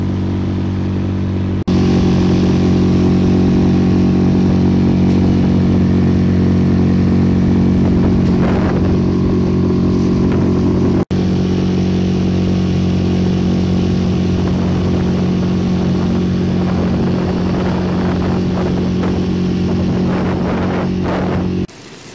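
A motor engine starts and keeps running at a river, a loud, steady, close-up drone with a strong low hum that holds evenly for over twenty seconds.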